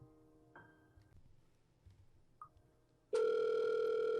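Telephone tones sound while a call waits to connect in The Letter. Faint beeps come first, then a loud steady tone starts abruptly and holds.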